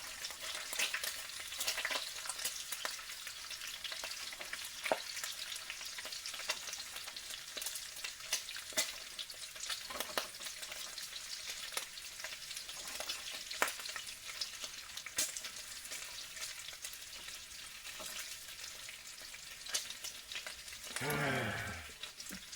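Bacon strips, cut in half, frying in a pan: a continuous crackling sizzle with dense spitting pops throughout, near and fairly loud, with a brief rising scrape or squeak near the end.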